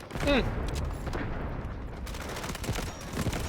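Gunfire in the video game Delta Force: rapid, fairly faint bursts of shots crackle through the scene, with someone speaking over the action.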